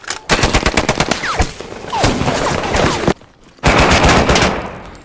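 Rapid bursts of automatic gunfire crack loudly and repeatedly, broken by a brief lull before heavy firing resumes, in a World War film battle with an enemy sniper.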